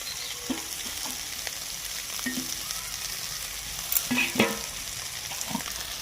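A spatula stirs cooked chicken filling with chopped coriander in a pan, making a low, continuous sizzle with intermittent scraping and tapping that grows a little louder near the end.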